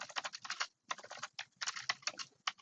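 Typing on a computer keyboard, rapid clusters of close, crisp key clicks with brief pauses between bursts, quiet and alone without talk.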